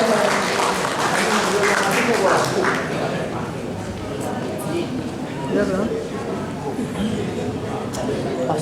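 An audience at an Indonesian public gathering gives sustained, dense applause for an arriving retired navy rear admiral, a steady wash of many clapping hands with a voice speaking over it.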